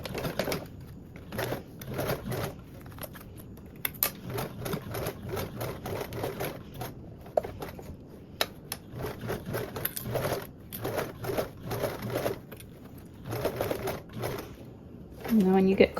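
A sewing machine runs in bursts along a 3/8-inch seam allowance while a small mini bag is made, steady mechanical stitching chatter up close with a voice talking over parts of it.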